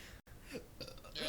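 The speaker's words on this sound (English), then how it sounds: "I can burp repeatedly." A person lets out a quick, close burp, short and throaty, with no talking around it.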